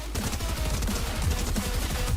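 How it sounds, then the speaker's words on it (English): Rapid submachine gun bursts ring out during video game play, a dense rattling stream of shots that continues without pause at close range, fairly loud and unaccompanied by talk. "SMGs are so stupid!"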